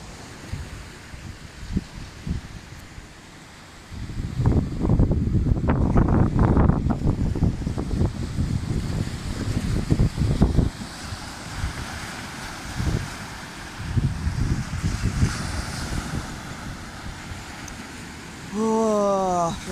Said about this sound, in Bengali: সকাল সকাল সমুদ্রের গর্জন